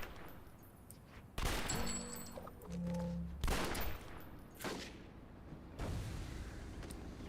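Gunfire from a police character in the video game City of Heroes: several separate loud bursts of shooting with brief tonal game sounds between them, spaced irregularly over several seconds, no one talking.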